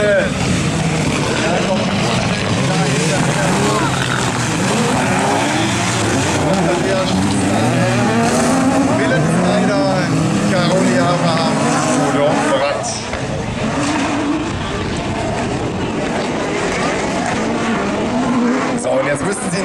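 Turbocharged super buggy race cars roar toward a chicane during a heat at an autocross event, with loud, continuous engine noise throughout and a commentator talking over it.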